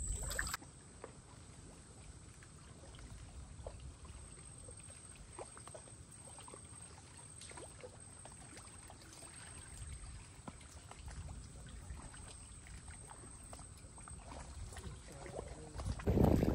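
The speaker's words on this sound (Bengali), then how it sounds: "এই নৌকা এখন ঠেলে ঠেলে নিয়ে যেতে হবে নদীর পাড়ে" A boat is pushed by hand toward a riverbank on a damp, rainy morning; a steady low rumble of water and hull runs throughout, with faint knocks and a louder scrape at the very end.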